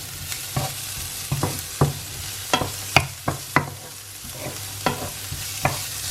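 Minced garlic, onions and shallots fry in hot oil in a skillet, with a low sizzle and a series of distinct spatula scrapes and taps at irregular intervals, close and with no talking.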